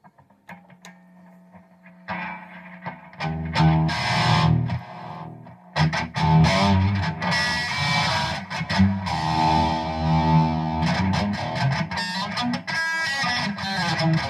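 A Peavey Razer electric guitar through distortion plays loud, gritty chords and riffs after a few quiet opening notes, sustained and driving throughout.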